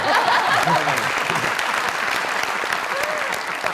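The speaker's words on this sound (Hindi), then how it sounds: "तालियां दो।" Studio audience of a comedy talk show breaking into loud, dense applause, close and sustained throughout, with a few faint voices and chuckles mixed in.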